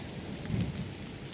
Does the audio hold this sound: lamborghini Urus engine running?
no